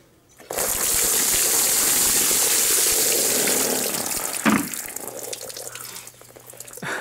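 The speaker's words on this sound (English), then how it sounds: "Chuck a bucket of cold water over yourself." A bucket of cold water dumped over a person in a wetsuit for an ice bucket challenge: a sudden loud gushing splash that pours for a few seconds, then tapers into dripping and trickling.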